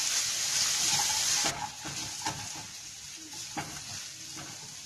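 Turmeric and garlic paste sizzle and fry in a pan over lowered heat, a steady close hiss that drops in intensity partway through, with a few light stirring clicks afterward.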